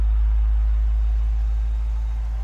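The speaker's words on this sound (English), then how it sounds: "We're going to listen to the engine." A 2009 Dodge Challenger R/T engine idles in a steady, deep, low rumble with a soft, even exhaust pulse, close and continuous with no talk.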